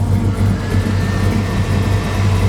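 A 1970 Chevrolet Nova SS with a 500 hp engine and a Turbo 350 automatic, idling steadily with a deep, loud, even rumble and faint accessory whine, close by and with no one talking.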